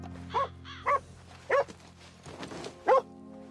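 Dog barking in the video game Red Dead Redemption 2: five sharp, separate barks spaced about half a second to a second apart over a low steady hum, fairly close and moderately loud.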